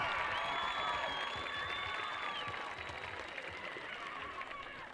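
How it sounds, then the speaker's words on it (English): A crowd in the stands at a varsity high school football game applauds and cheers the youth cheerleaders, a broad wash of clapping with a few shrill whistles and whoops that gradually fades. "put your hands together one more time for the Little Laker cheerleaders"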